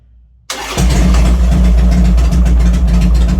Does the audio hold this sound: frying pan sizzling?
no